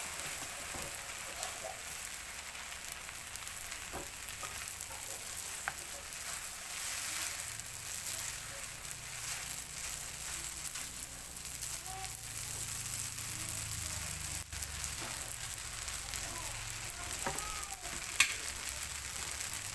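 Glass noodles stir-frying in a pan give a continuous soft sizzle with faint scraping stirs, steady throughout and with no talk.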